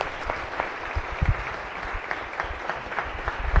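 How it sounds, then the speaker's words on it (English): A warm round of applause in a Senate chamber welcomes visiting guests, dense and fairly loud clapping from many hands, with occasional low thumps and a continuous bed of claps. "please, a warm round of applause"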